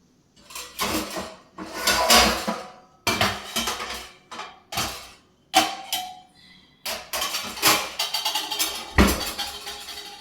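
Metal pots, pans and lids clatter and clank in bursts as someone rummages through kitchen cookware hunting for a lid, loud close knocks separated by short pauses.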